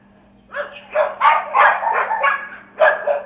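A pack of about seven stray dogs barks and yips in a rapid, aggressive burst, moderately close, over a low steady hum.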